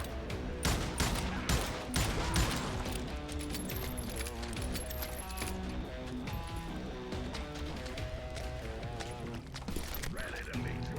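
Gunfire in the Call of Juarez: Gunslinger video game, rapid sharp shots in bursts over game music, fairly faint overall with dense cracks early and scattered shots later.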